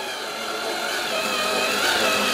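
A power drill bores a hole for a heated seat switch inside a VW Tiguan. The whirring grinds on loud and close for the whole moment, with no talk over it.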